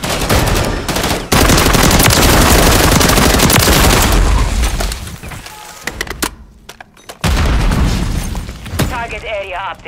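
Call of Duty match with dense, loud gunfire bursts and a grenade explosion, almost continuous with brief gaps, while players shout and talk over the action.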